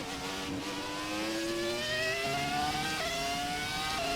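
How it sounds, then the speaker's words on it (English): Ferrari F2004 V10 engine in the F1 2017 racing game, a high-pitched wailing scream rising steadily through gears with brief shift drops, loud and continuous. "There's that great sound from the V10 again."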